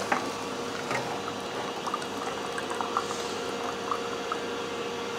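Fresh sugarcane juice runs from an automatic battery-operated juicer, a quiet, steady trickle with small splashes and a faint mechanical background, no talking.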